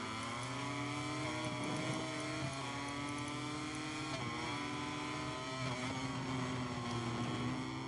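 Racing motorcycles including an Aprilia RSGP scream steadily through a MotoGP 23 video game race at Aragon, a continuous high-revving engine drone with slight pitch shifts and no talk.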